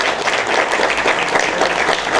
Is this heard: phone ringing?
no